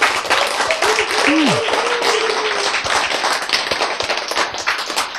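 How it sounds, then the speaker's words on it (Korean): Lecture audience applauds with dense, steady clapping throughout, a brief voice rising over it early on. "박수."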